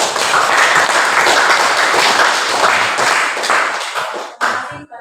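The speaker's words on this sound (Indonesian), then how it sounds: "Lalu kita berikan aplaus di bawah" Applause at the close of a group presentation during a classroom teaching practice session: a steady patter of many hands clapping together, fading out toward the end, with a few louder final claps.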